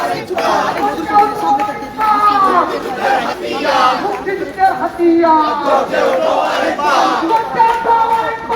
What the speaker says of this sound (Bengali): বিক্ষোভ মিছিল করছে এই মুহূর্তে আপনারা সরাসরি দেখতে পাচ্ছেন